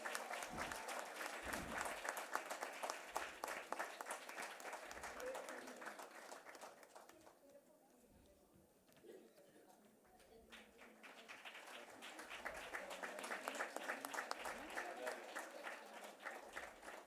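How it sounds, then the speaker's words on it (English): Audience at a nursing conference in Kolkata gives the speakers a round of applause, dense clapping that dips midway and then swells again, with some voices underneath. "Can we have a huge round of applause for the speakers"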